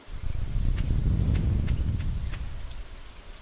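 Rain in the Stardew Valley video game hisses as a steady, dense wash, with a low rumble swelling and fading beneath it.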